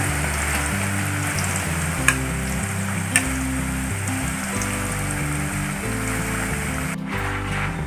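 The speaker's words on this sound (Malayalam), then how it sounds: "കായ വെളിച്ചെണ്ണയ്ക്ക് ഇടുമ്പോൾ കയ്യൊന്ന് നീക്കി പിടിച്ചോളൂട്ട് ചിലപ്പോൾ വെളിച്ചെണ്ണ തെറിക്കും" Steady crackling sizzle of banana slices frying in hot coconut oil, continuous and close, with a couple of sharp pops and no talking.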